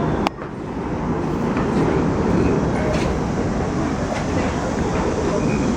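A subway train rumbles steadily and loudly from close by, with faint clatter and a few sharp metallic ticks over the broad roar. No voices cut through.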